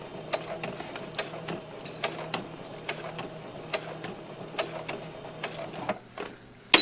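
A sewing machine stitches bias tape in the ditch with slow, evenly spaced clicks and a low hum, close by, ending in a louder clack with no speech.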